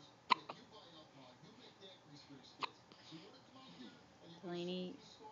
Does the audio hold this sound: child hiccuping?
yes